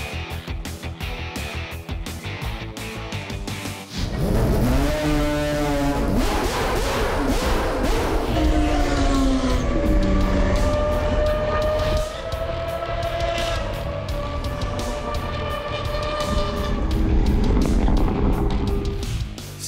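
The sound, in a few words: Mazda RX rotary engine cars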